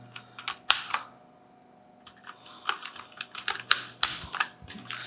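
Typing on an ASUS ROG Strix Scope mechanical keyboard fitted with red switches: close, irregular bursts of key clicks and clacks with short pauses between, and no voices.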